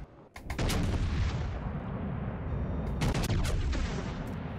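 A battleship's main guns fire a salvo in World of Warships Legends, a heavy booming blast followed by a second set of thunderous shots about three seconds later over a constant loud rumble.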